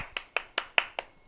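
One person claps their hands alone, six crisp, evenly spaced claps at a quick steady rhythm, close and fairly quiet with silence between them.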